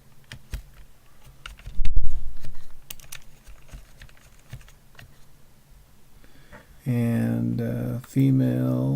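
Typing on a computer keyboard, a run of light irregular key clicks heard up close, with a brief louder rustle early on, then a person starts talking near the end.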